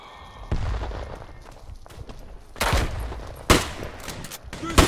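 Gunfire in the WWI video game Tannenberg: several sharp rifle shots and bursts crack out at uneven intervals, some close and loud, over a busy battlefield din with occasional voices.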